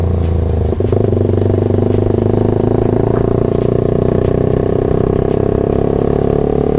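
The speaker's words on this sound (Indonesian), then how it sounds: "Berisik banget anjing ini motor merek." A loud Kawasaki Ninja SL with a 280 bore-up engine drones steadily and close up during a night ride, with a constant raspy exhaust note and faint clatter throughout.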